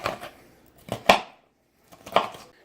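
A knife cutting a bell pepper into slices on a board, several crisp separate chopping taps in two small clusters with quiet gaps between them.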